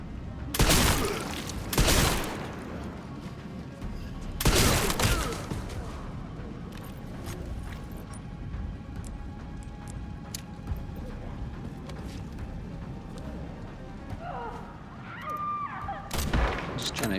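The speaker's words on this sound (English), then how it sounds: "Just trying to shoot all these zombies ahead of time." Gunfire in the Resident Evil Requiem video game as zombies are shot: a few loud bursts early, near 1 and 4.5 seconds and again at the end, with quieter ambient rumble between and no talk.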